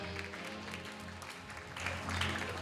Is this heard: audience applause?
yes